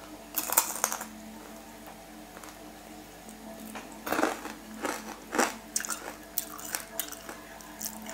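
Close, crunchy bites and chewing of a spicy Thai instant noodle salad with mushrooms, irregular crisp crunches and wet squishes over a quiet background, louder bursts clustered in the second half.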